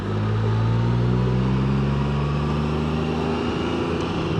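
2024 Can-Am Spyder RT Limited engine dropping a gear while riding, a loud steady drone with falling and rising engine tones over rushing wind.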